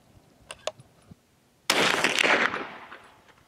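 A single loud rifle shot from a .30-06 firing a powder-coated cast bullet load, a sharp close report with a decaying tail lasting about a second, preceded by a few faint clicks.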